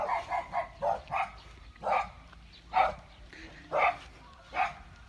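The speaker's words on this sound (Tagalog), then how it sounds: "Nako po, may aso." A dog barks repeatedly nearby on a rural farm, around nine short, sharp barks in an uneven rhythm, the first few coming quickly together and the rest more spaced out.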